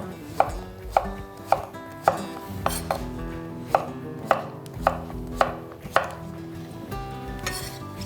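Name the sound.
knife dicing food into cubes on a cutting board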